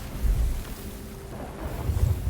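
Wind gusting into a ship's sails in Sea of Thieves, a steady low rushing roar with rumbling buffets, moderately loud and rising toward the end, with no talk over it.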